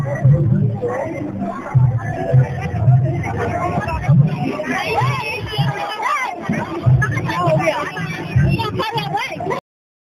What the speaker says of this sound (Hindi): प्रयागराज में महिलाओं का भारी भीड़, हजारों की तादाद में उमड़े लोग